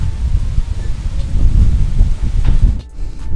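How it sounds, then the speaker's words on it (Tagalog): Gusty wind buffets the microphone in low, rumbling waves, with faint rustling in the background. "Lakas ang hangin."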